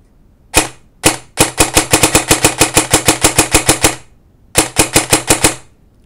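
A custom G&P M4 airsoft rifle dry-firing without BBs: two single semi-auto cracks, then a rapid full-auto burst of about twenty sharp mechanical snaps, a pause, and a shorter burst of roughly eight, close and loud with no talking.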